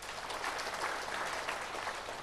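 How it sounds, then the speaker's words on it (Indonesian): Audience applause at a church sermon, a dense, even wash of many hands clapping that holds steady for a couple of seconds, moderately distant and with no talking. "Tepuk tangan yang keras."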